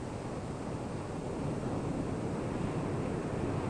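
Waves breaking and washing up a sandy beach, a steady broadband roar of surf with wind noise, continuous and fairly loud with no voices.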